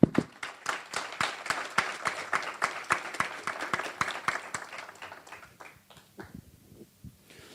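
A church congregation in Sharjah clapping together in a quick, even rhythm of distinct claps that loosens and thins toward the end, leaving a few scattered claps.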